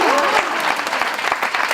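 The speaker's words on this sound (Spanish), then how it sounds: "Un aplauso a los de Ollón" An audience at a poetry event applauds in a short, dense burst of clapping, with a voice briefly audible over it.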